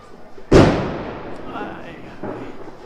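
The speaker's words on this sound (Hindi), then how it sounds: "छत पे बम फोड़े जा रहे हैं" A firecracker bursts on a rooftop during Diwali night: one loud, sharp bang with a long echoing decay, followed later by a fainter distant thump.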